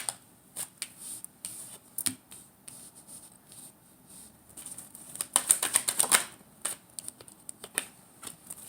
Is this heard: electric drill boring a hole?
no